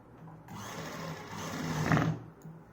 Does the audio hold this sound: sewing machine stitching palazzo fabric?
yes